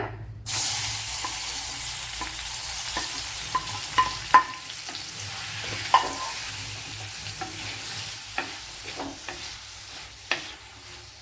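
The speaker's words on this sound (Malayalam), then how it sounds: "ഇനി ഇതിലേക്ക് നമ്മൾ കട്ട് ചെയ്ത് വെച്ച മാങ്ങ ഇട്ട് വഴറ്റിയെടുക്കുക" Chopped ripe mango sautéed in a pan for a sweet, with soft sizzling and scattered spatula scrapes and taps against the pan, steady and close, no voices.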